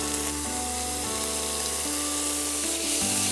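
Capsicum and cauliflower sauté in a hot pan, seasoned with salt and pepper, giving a loud, steady sizzle with a low humming drone underneath and no talking.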